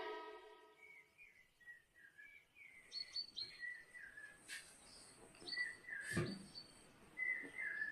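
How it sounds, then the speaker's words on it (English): Bright chirps and whistles in the manner of a pigeon call from a children's phonics song, a quick series of short tweets in the clear with no voices. "P for pigeon."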